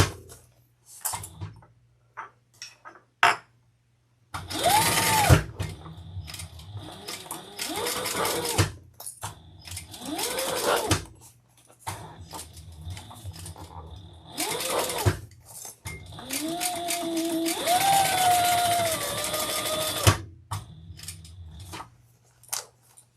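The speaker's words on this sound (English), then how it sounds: "All right, let's sew this on." A sewing machine stitches leather for a Laverna bag in repeated bursts of rapid mechanical whirring and clatter, separated by short quiet pauses, close and clear.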